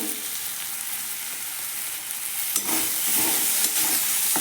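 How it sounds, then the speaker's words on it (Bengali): Cumin and coriander powder with spices sizzle and fry steadily in a hot pan, a continuous hiss with light stirring scrapes that grow a little louder toward the end, no talking. "ভালো করে কষিয়ে নিচ্ছি"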